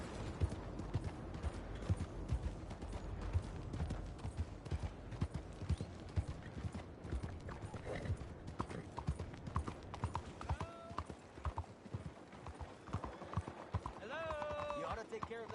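Rhythmic clip-clop of horse hooves trotting in Red Dead Redemption 2 on PS4, steady and fairly close, with game sound effects and a few tonal cues toward the end.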